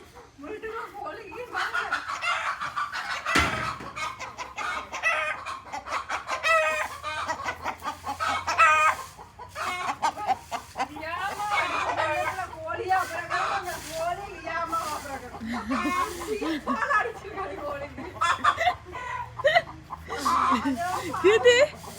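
Chickens cluck and a rooster crows repeatedly nearby, while people talk and laugh over the birds.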